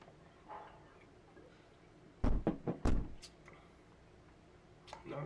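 Several sharp knocks on a door come in two quick clusters, loud and close against a quiet room, followed by a few faint taps.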